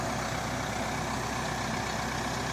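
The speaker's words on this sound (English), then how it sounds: "the old tractor there, or the new tractor and the discs" A tractor engine runs steadily while pulling tandem discs across a field during land preparation, a loud continuous low rumble with no pauses and no voices.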